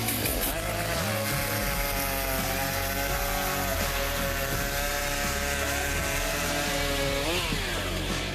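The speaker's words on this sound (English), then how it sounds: "So with the chainsaw, you got to make 2 discs within 10 centimeters of wood." A chainsaw runs loud and steady at close range as it cuts discs from a log at a lumberjack-style competition, its engine note holding nearly constant and shifting slightly with the load throughout.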